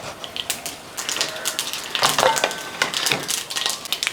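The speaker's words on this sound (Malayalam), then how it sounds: "കടുവൊന്ന് പൊട്ടട്ടെ" Mustard seeds popping in hot coconut oil in a kadai, a dense crackle of quick, bright pops that grows busier and louder over a few seconds, with no voices.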